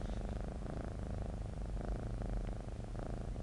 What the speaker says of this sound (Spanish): Está ronroneando.